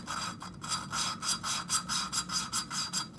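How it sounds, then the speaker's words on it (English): A Honda ATC 200x engine valve being lapped by hand with grinding compound: a steady back-and-forth gritty rubbing, about a dozen rhythmic rasping strokes, close and fairly loud with no talking. "when the compound is getting ground down, and you can hear it. You can hear it getting finer."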